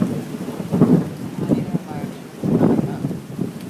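Tropical storm weather with deep rolling thunder in two heavy swells over continuous rain, loud and close, while a voice speaks faintly underneath.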